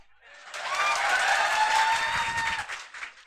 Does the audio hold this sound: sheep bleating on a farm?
no